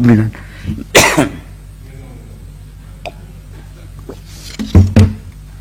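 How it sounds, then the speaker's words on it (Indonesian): A single sharp cough bursts out near the start, followed by quiet room tone and a few soft vocal sounds toward the end. "Mau batuk, mohon maaf."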